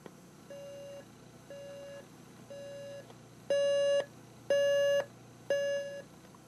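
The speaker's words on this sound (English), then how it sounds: "let's go ahead and have a listen to the alarm" A Conair Sound Therapy SU4C clock radio alarm sounds six evenly spaced electronic beeps about a second apart. The first three are moderate and the last three noticeably louder, all alone against a faint steady hum.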